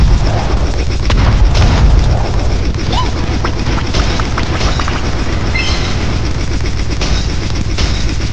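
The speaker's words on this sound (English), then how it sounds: "Fireball!" Fireball explosion in the Racoon Rampage arcade game, a loud, sustained booming roar with crackling debris that rumbles on for several seconds without letting up.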